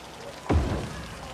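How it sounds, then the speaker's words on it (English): Rain falling over a city in the game Cities: Skylines, a steady soft hiss that swells into a louder, fuller wash about a third of the way in, then settles back. "I wish the rain would go away"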